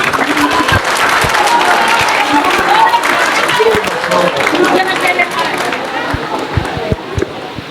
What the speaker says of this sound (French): Félicitations, il faut les applaudir.